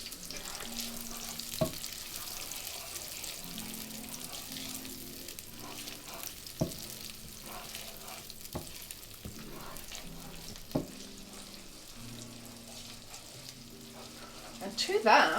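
Chili, garlic and pepper frying in a pan give a steady close sizzle with occasional utensil clicks and stirring, a voice murmuring faintly underneath.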